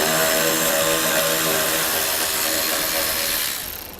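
A power tool drives a 7mm socket to remove bolts near the headlight of a 2011 Chevrolet HHR, whirring loudly and steadily for a few seconds before winding down.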